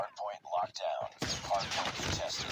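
Rapid gunfire in the mobile game Call of Duty Mobile, dense bursts of shots filling the second half after someone talks in French, continuing under his voice.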